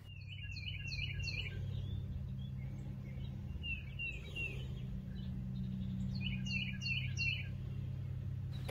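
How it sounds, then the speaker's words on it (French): A northern cardinal sings repeated bright whistled phrases in quick descending series, moderately near and clear, with pauses between bursts over a low steady background hum. "On écoute le chant du cardinal."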